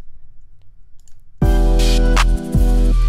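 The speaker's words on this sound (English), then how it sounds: "it kind of adds this closed hi-hat effect" A sudden loud synthetic drum crash in a melodic trap beat hits after near silence, ringing with tight, clipped hi-hat-like ticks layered through its sustain.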